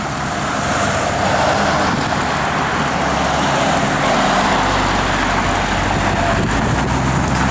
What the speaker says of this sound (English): Morning traffic.